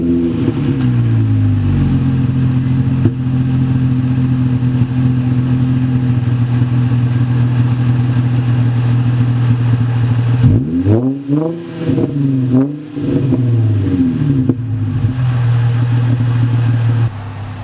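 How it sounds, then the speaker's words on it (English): A Nissan 350Z engine with a straight-pipe exhaust to the cats (muffler delete) idles with a loud, raw exhaust rumble, then revs up sharply several times before settling back to a steady idle. "straight pipe to the cats. It's just a muffler delete, I guess, but let's see how it sounds."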